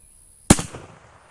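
A rifle fires a single 150 grain rimmed cartridge outdoors: one sharp, loud crack after a short quiet lead-in, trailing into a brief echoing decay.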